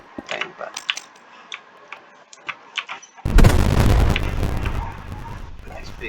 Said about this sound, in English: big explosion from the super heavy